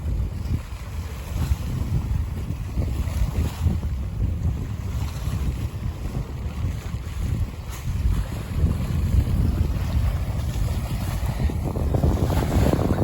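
A strong, cold wind gusts at Mangla Dam, roaring steadily and buffeting the microphone for the whole stretch, loud and broadband, with no speech over it.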